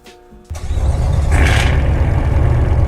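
Cadillac CTS5 Blackwing in the Roblox game Greenville starts up with a sharp catch after a quiet moment, then settles into a loud, steady, deep engine drone that holds to the end.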